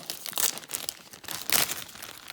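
Crinkly plastic of a Lego packet tearing and crumpling close by, with two louder rips standing out among softer rustling.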